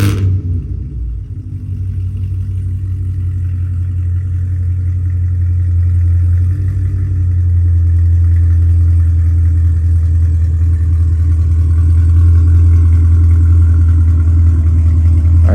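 Cadillac CTS-V (2016+) with an EOS axle-back exhaust and valves open, idling after a remote start in an open area: a steady, loud, deep V8 rumble that settles after a brief start-up surge, with no talking.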